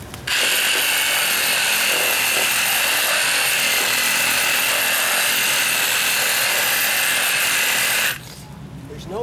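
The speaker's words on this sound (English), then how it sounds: "There's no other tool that I know of that you can cut this line like a sawzall" A Sawzall reciprocating saw cuts through a window ledge, running loud and continuous at a steady buzzing pitch for about eight seconds, then stopping abruptly into quieter room sound.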